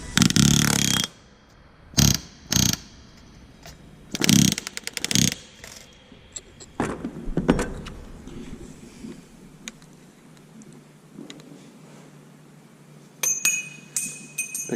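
A rivet gun fires short, loud bursts into aircraft sheet metal held with clecos, several separate hammering rattles in the first half followed by quieter handling noise.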